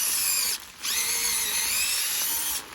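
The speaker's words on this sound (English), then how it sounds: "All right, I'm gonna line up my drill just right," A power drill bores into a maple tree to tap sap, a loud high whine held close with a brief dip in speed before running on steadily.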